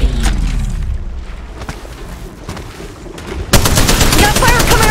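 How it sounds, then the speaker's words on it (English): Gunfire in the mobile game Apex Legends Mobile: sharp shots crack at first, then a sudden dense burst of rapid automatic fire erupts loud and close near the end. "We got fire coming our way!"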